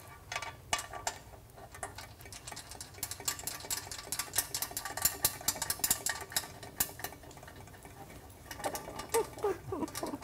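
Bolts are finger-tightened inside the legs of an Allegro Reformer, giving faint, irregular metallic ticks, scrapes and small ratcheting clicks close by in a quiet room.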